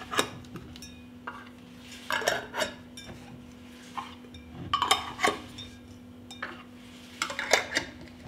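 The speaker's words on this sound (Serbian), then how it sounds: "Tegle zatvaram čistim poklopcima." Glass jars being closed with clean metal lids during home canning, scattered close clinks and scraping taps of metal on glass in irregular bursts, no talking.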